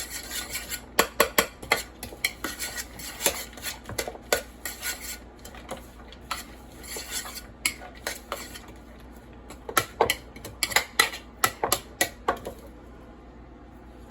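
A utensil stirring salmon salad in a bowl, bright clinks and clanks against the dish in uneven bursts, close and fairly loud, with no talking.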